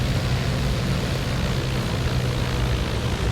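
Twin propeller engines of a Piper Duchess Model 76 in the X-Plane 11 flight simulator give a loud, steady droning roar that holds constant throughout, with no voices.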